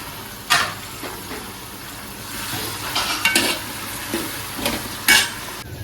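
Onions sizzle and fry in a pan for a native country-chicken curry, with a spoon scraping and stirring in several sharp bursts over a steady hiss, close and fairly loud with no voices.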